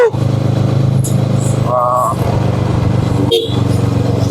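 A Kawasaki ER6N motorcycle rides along with a steady engine drone, loud and close, while someone talks over it and a couple of short horn toots sound from other traffic.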